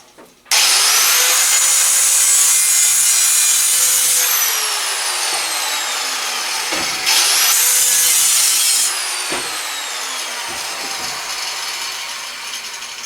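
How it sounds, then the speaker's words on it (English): A cut-off wheel on an angle grinder cuts through tack welds on a V8 Impreza motor mount, giving loud sustained high-pitched grinding with two long cuts, the wheel spinning down between them. "take the grinder, cut off wheel, and cut the tack welds on the mount"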